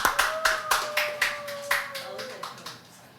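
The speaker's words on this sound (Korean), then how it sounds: "우리 함께 박수로 또 졸업을 축하했으면 좋겠습니다" A small church congregation at a Korean Sunday service claps to celebrate a graduation, with a few distinct rhythmic claps gradually fading, and a held musical tone in the background.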